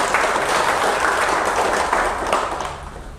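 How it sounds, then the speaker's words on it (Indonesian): Audience applause for the PKB party chairman at a political event, steady and dense clapping from a large crowd that holds loud throughout and then eases slightly toward the end. "Tepuk tangan dong untuk ketum kita."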